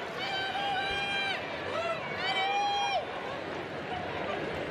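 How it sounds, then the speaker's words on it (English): A rugby stadium crowd at the France vs Canada women's Rugby World Cup bronze final roars steadily in a massive, rousing ovation for Celine Ferrier in her final game for France, with sustained horn-like tones rising above the din. "Celine Ferrier getting a massive, rousing round of applause"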